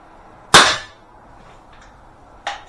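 An air pistol, either a Webley Tempest or a Beeman P17, fires one sharp, loud, close crack. A fainter, shorter snap follows about two seconds later. There is no talking.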